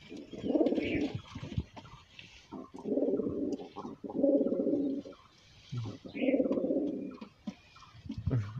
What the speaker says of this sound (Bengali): একবারে কড়া একটা কবুতর, খুবই মানে আমার বাড়ির সবচেয়ে সেরা কবুতর এটা